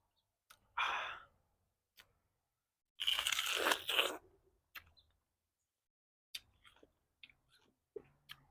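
Crunchy bites and chewing on sour star fruit (carambola) dipped in sauce, close up: a loud crisp crunch, a longer burst of chewing, then softer scattered clicks and mouth sounds with no talking.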